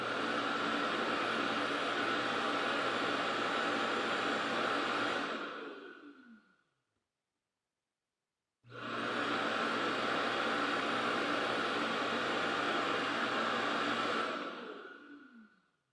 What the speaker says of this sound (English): Let's fire up the self-empty and see how loud it gets.